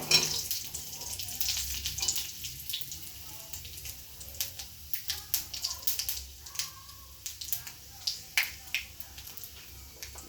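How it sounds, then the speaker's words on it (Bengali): Panch phoron, dried chilli and bay leaf tempering in hot oil in a kadai, a faint sizzle with scattered crackles and pops that grow denser toward the end. "এবার কড়াইতে ওই তেলের মধ্যে একটু পাঁচফোড়ন, শুকনো লঙ্কা, তেজপাতা ফোড়নে দিয়ে দিলাম।"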